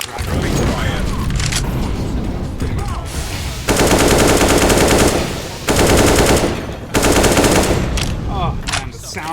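Rapid bursts of AK rifle fire in a Counter-Strike match, loud automatic volleys separated by short pauses, with a voice talking in between.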